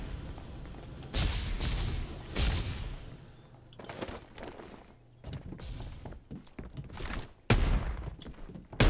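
Gunfire rings out in a video game as repeated loud bursts and rattling volleys. Short pauses break up the shooting, and mechanical clicks and thuds fill the gaps between the shots.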